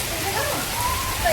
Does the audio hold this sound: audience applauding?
no